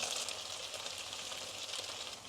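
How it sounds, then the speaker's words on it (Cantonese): Chicken pieces fry in a pan, giving a constant, fairly quiet hissing sizzle close by, steady throughout without voices. "我哋煎緊雞嘅途中咧"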